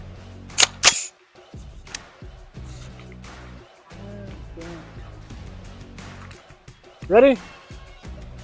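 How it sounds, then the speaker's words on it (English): A 300 Blackout rifle with a 16-inch barrel fires one sharp, loud test shot early on, a brief crack that dies away quickly. Someone talks before and after it. "I'm going to take a test shot with one of these."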